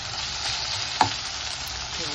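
Tomatoes hit a sizzling garlic and green chili paste, giving a loud, dense, steady frying hiss up close with one brief sharp spatter midway.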